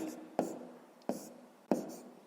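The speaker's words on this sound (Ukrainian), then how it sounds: "Записуємо тоді відповідь, пишемо відповідь." A pen writes a math answer by hand on paper: faint scratching with a few sharp strokes at irregular intervals, and soft speech-like sounds underneath.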